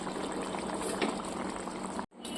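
A pot of spicy bhola fish curry boils steadily, a close, continuous bubbling and hissing that breaks off abruptly near the end.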